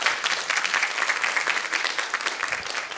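Audience applause at a panel discussion on free speech and civil rights, a steady dense clapping from a crowd that fills the whole clip at moderate loudness.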